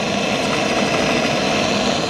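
Balanced railcar Stirling engine, an early crude build, running steadily with a dense, even whirring rattle that holds constant and close throughout, with no voices.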